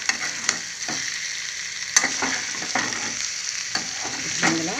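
Ivy gourd (dondakaya) pieces fry in a pan, a steady close sizzle broken by repeated stirring scrapes and taps of the spatula.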